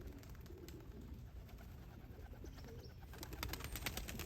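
White pigeons kept as loft-flying pets coo softly in a steady low murmur under a constant wash of background noise. A few sharper clicks or flutters come near the end.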